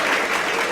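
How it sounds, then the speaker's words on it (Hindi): Loud, dense applause from an audience at a school ceremony honoring 10th-class results in Gangapur City, a steady broadband clatter of many hands filling the whole moment without pause. "जोरदार तालियां बजाते हैं।"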